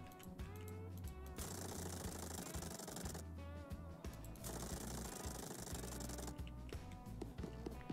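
A cordless screwdriver whirs in bursts in the Diesel Brothers Truck Building Simulator video game, a steady mechanical buzz running through most of the stretch amid workshop clatter, with no talking.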